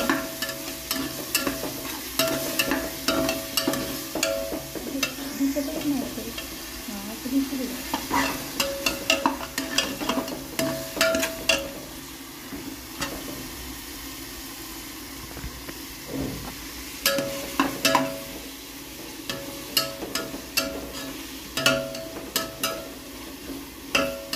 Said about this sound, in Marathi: चांगल्या परतून घ्यायच्या भाज्या